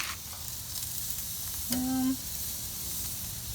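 Steak and potatoes sizzling on a grill as they are flipped, a quiet continuous hiss with a brief tonal squeak near the middle, no talking.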